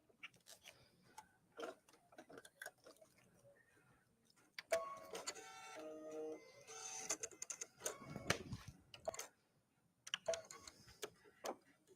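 A ScanNCut cutting machine at work, faint rhythmic ticking and whirring of the carriage with bursts of stepping motor tones and some handling noise nearby.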